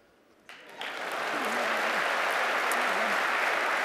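Audience at a corporate awards show breaks into applause after a brief quiet start, the clapping swelling within a second into a steady, full wash that continues to the end.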